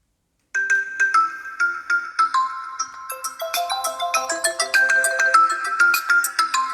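Ringtone playing through the single speaker of a Tecno Spark 8 Pro phone: a bright, melodic chiming tune with rapid plucked notes, moderately loud and close, with no talking.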